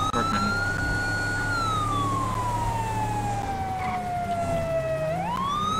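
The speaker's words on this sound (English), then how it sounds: "I'm just gonna turn off the sirens as we're not on main roads anyways." A police car siren in the LSPDFR video game wails loud and steady, its pitch sweeping slowly down and then snapping back up over a constant engine hum, with no talking.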